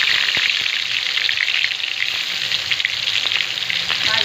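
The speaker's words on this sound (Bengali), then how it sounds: "মাছগুলো এবার আমি কড়াইতে এক এক করে দিয়ে দেবো।" Hilsa fish pieces rubbed with turmeric and salt fry in hot oil in a wok, a loud steady close-up sizzle with crackling pops throughout.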